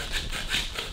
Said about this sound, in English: what we're going to do is just take and just do a light scrape